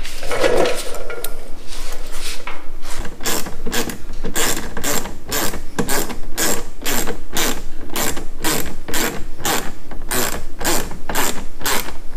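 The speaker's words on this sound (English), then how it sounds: "we'll put that 7mm bolt back in" A hand ratchet driving a 7mm bolt into the splash guard on a C8 Corvette fender liner, with rapid rhythmic clicking bursts repeating steadily after a short quieter start, close and loud, with no talking.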